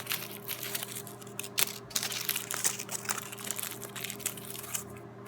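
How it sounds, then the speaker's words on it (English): Pieces of aluminium foil are crumpled into snakes for a homemade rain stick, giving a steady, close crinkling and crackling with sharp pops, over a low constant hum. "crumple your pieces of foil into snakes"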